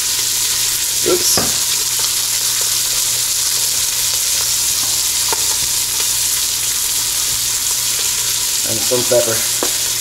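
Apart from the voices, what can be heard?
beef sizzling as it browns in a pan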